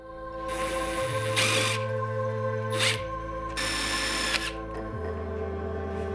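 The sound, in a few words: power drill screwing dust collection duct elbows together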